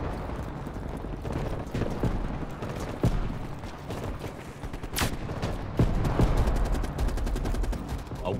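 Dense, rapid gunfire in Call of Duty: Black Ops Cold War crackles continuously with sharp individual shots and bursts, sounding like a busy firefight with occasional louder blasts.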